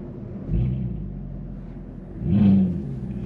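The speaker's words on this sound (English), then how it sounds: "Right, let's give you guys a bit of V8 noise." A Mercedes W204 C63 AMG V8 idles with a deep, steady rumble and gives two short, loud revs with a bassy swell, one early and a longer one near the end.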